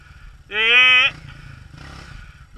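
A motorcycle engine on a rainy dirt trail revs hard for about half a second, a rising whine, then settles back to a low idle rumble, with another rev starting at the end.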